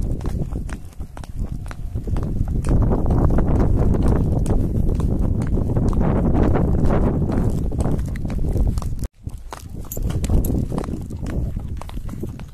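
A horse walks under its rider on an outdoor ride in the countryside, hooves clip-clopping in a steady rhythm that is close and loud over wind and rustle.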